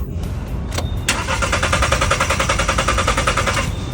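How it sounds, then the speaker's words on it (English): A car engine cranks steadily without catching, a rapid rhythmic starter churn running loud and close for several seconds after a short pause. "This car won't start."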